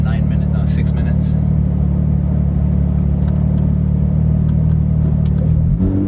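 A Porsche 991 GT3 engine drones steadily while driving, a deep, even rumble heard from inside the car, with a faint voice in the background and a slight shift in tone near the end.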